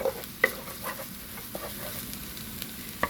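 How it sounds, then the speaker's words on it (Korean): Cheese shrimp fried rice being stir-fried in a pan gives a steady, soft sizzle, broken by a few light scrapes and clicks of the spatula at close range. "그 다음에 볶아주고요."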